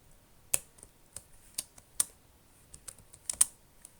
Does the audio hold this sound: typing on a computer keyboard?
yes